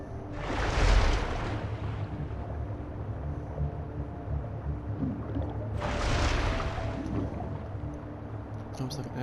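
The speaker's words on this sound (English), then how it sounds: "Sounds like an air fryer." Two broad, airy whooshes like an air fryer's fan roar in What Remains of Edith Finch, set at the ocean after rolling off a cliff. The first swells near the start, the second after a long gap, over a low rumbling bed.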